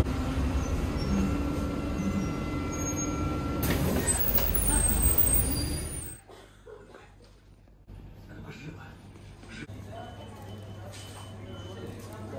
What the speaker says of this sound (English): Oops, this is my bus, by the way.